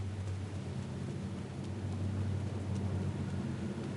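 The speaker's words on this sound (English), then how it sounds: "What is it with this rain, mate?" Steady rain falling in the medieval game Kingdom Come: Deliverance, a soft continuous hiss with a low rumbling bed beneath, even and unbroken throughout.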